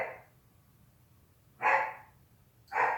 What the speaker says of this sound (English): And you hear my dog barking.